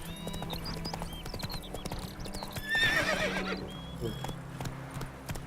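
Hooves of Roach, a horse in The Witcher 3 video game, clip-clop at a gallop with a whinny in the middle, set against game ambience and a voice speaking.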